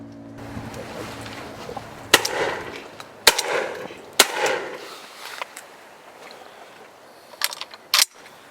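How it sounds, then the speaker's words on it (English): Shotgun blasts from a Browning Maxus fired at pigeons over Essex fields, several sharp reports spaced a second or so apart, moderately distant, with a quick double pair near the end over a low outdoor background. "Geoff picks another couple out of the sky, making full use of the gun as the Browning Maxus performs exactly as required."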